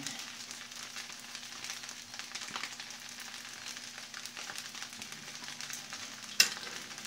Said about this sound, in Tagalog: lagay naman natin ngayon ang spring onion